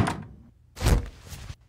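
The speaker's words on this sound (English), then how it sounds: "Could you shut the door, Igner dear?" A door is pushed shut indoors, landing as a single dull thunk with a low, heavy body, followed by faint room noise and a softer knock-like bump.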